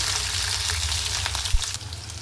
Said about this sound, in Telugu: ఇప్పుడు ఆయిల్ హీట్ అయిన తర్వాత జీలకర్ర తర్వాత పచ్చిమిర్చిని యాడ్ చేసుకోవాలి